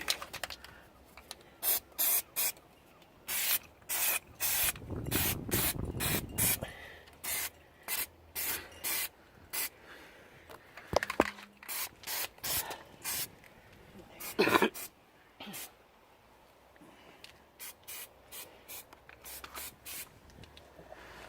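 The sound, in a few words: spraying black stone chip coating onto rusty car fuel tank straps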